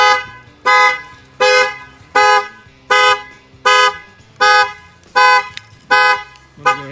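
A 2017 Ford's car alarm, set off through an add-on shock sensor, blasts loud repeated horn honks in an even rhythm, about one every half second, close by.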